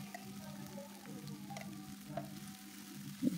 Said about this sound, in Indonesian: Diosreng-osreng-osreng sampai mateng